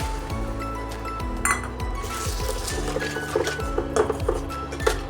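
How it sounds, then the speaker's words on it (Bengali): Pouring mixer-rinse water into a pan of frying egg korma masala, heard as clinks of utensil on pot, liquid splashing and soft squishing, close and moderately loud with intermittent metallic taps. "এবার আমি এই মিক্সি ধোয়া জলটা এর মধ্যে দিয়ে দেবো।"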